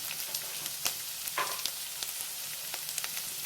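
Onions hit the pan for a homemade cauliflower fry, giving a bright, hissing sizzle with a few light stirring scrapes, faint and close.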